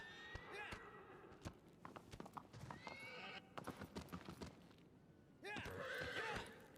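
Horse hooves clip-clopping at a gallop in the Shadow of the Colossus video game, a quick steady rhythm with a whinny near the start and another near the end, close and fairly loud.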